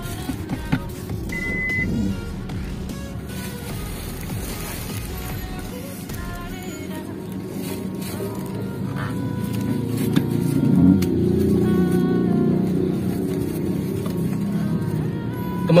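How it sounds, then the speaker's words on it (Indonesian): Suzuki All New Ertiga Hybrid, a low MPV with automatic transmission, restarting its engine after auto stop when the brake pedal is released; a quiet cabin gives way to a low steady engine hum that swells gradually toward the end. "pedal remnya kita lepas, dia mesin akan hidup kembali"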